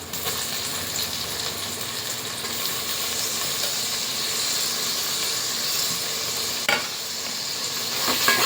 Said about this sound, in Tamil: தக்காளி போட்டுட்டு நல்லா வதக்கணும்.